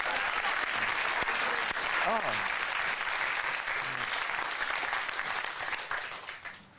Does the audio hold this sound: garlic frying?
no